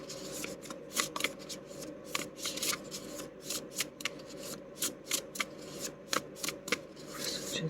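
Tarot cards being shuffled by hand, a soft, close riffling with crisp repeated snaps at an uneven rhythm, quiet overall with a faint voice now and then.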